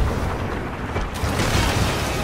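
Cannon fire from a pirate ship at sea in a video game, a loud broad boom that rolls on as a sustained rumble without a break.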